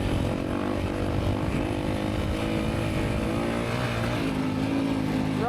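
Dirt motorbike with mud-caked tires revving up a driveway, a loud continuous engine drone rising and falling close by, with no talk.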